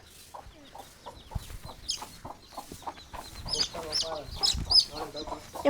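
A chicken being caught clucks and squawks in short bursts, fairly close, with people talking and some handling noise mixed in.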